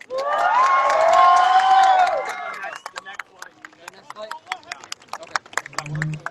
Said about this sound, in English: Hey, a bigger round of applause.